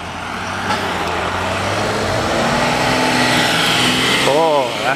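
A motor vehicle engine rumbles loudly nearby on a street in Pointe-Claire, Montreal, its pitch rising as it passes, with a brief squeal near the end.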